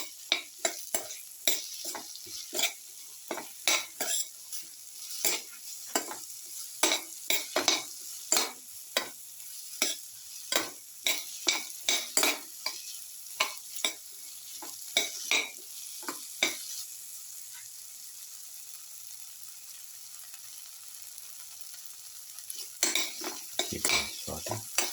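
Okra and potato sauté in a pan, with a bed of frying sizzle under a long run of repeated spatula scrapes and clacks against the metal, pausing briefly before resuming near the end.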